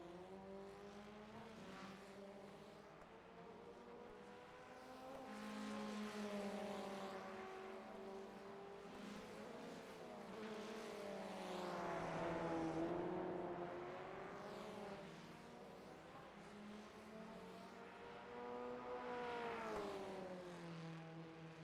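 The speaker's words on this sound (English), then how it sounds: "Knudsen just applying the pressure to the back end of that Formula Ford." Formula Ford 1600 race cars lap the Rudskogen circuit, their engine notes rising and falling in repeated sweeping passes, heard fairly distant and faint.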